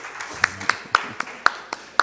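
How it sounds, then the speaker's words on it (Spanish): Applause at a CELAM-UNIAPAC symposium comes through as sharp, evenly spaced claps about four per second, close and crisp over a quiet room with faint murmur underneath. "y todos aplaudieron como ahorita."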